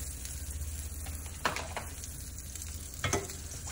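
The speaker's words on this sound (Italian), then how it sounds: "Adesso ungiamo un po' la padella con il burro, con un filo d'olio." Butter and a drizzle of oil sizzle steadily in a crepe pan, a close, continuous crackle with two brief louder swells as the fat spreads.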